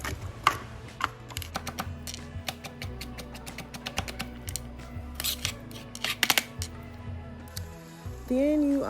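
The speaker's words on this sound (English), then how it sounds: "Go ahead and chop your garlic finely." Garlic being finely chopped with a knife for crab stuffed mushrooms: a run of quick, close, irregular taps on a cutting board, with a few louder knocks and a brief sizzle-like rise near the end.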